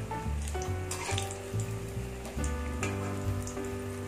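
Vada frying in hot oil, a continuous bubbling sizzle with crackles, close and steady, with a tonal musical hum running underneath.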